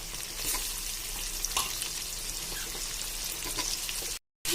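Chopped tomatoes fry in oil for a kavala (sardine) fish curry, giving a steady close sizzle with occasional stirring scrapes. The crackle runs continuously, with no talk, then cuts out briefly near the end.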